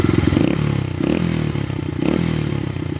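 A motorcycle with freshly repacked mufflers and a new baffle idles nearby, its four-stroke exhaust putting out a rapid, loud, throbbing pulse with slight surges in revs.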